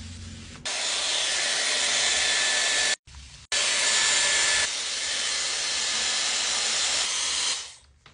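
A Dyson Airwrap hair styler blows a loud, steady airy hiss up close. It switches on, cuts out briefly around the middle, resumes, shifts speed, then winds down.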